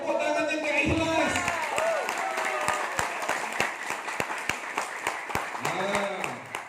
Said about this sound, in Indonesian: Tepuk tangan yang gak ikhlas.